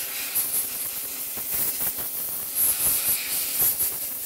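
Compressed air blows excess resin off a 3D resin print inside a running spray booth, a steady close hiss with short, louder bursts of air over the booth's background noise, with no talking.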